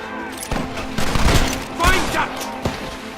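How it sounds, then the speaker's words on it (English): Gunshots crack through a shootout in the video game Red Dead Redemption for the Xbox 360: scattered loud reports at uneven intervals with rumbling echoes, some near and some farther off, and a voice shouting between them. "Stop shooting at me!"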